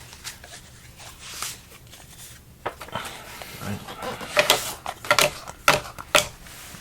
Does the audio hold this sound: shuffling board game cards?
yes